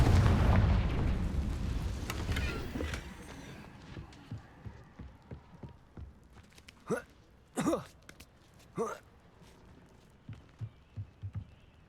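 Fire-blast spell explosions in the Hogwarts Legacy video game: a heavy, rumbling blast that fades over a few seconds, then several sharp, bright magical bursts and small scattered impacts.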